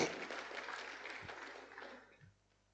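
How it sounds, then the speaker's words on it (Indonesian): Church congregation applauding during a sermon, a dense rush of clapping that starts at full strength, thins gradually and dies out before the end. "Ya boleh beri tepuk tangan."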